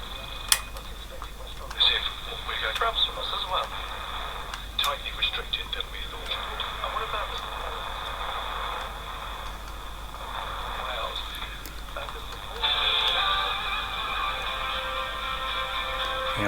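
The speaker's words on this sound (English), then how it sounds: "Perhaps I can't leave it on any station for too long because I'll get a YouTube copyright strike, but okay, that's AM." A cheap Chinese radio kit tuned to an AM station plays thin, tinny broadcast audio with a steady hiss and hum underneath, with occasional clicks throughout.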